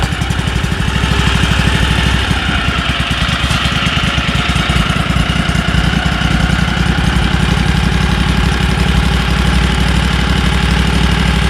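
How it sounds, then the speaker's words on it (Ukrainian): A Loncin LC2V90FD 35 hp two-cylinder engine cranks, catches and runs with a loud, close, steady throbbing idle and a rapid even beat, its pitch rising slightly as the revs go up. "Витягуємо повітряну заслонку і заводимо. Чуть-чуть можемо обертів додати."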